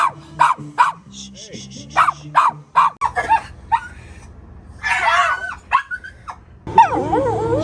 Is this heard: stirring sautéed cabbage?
no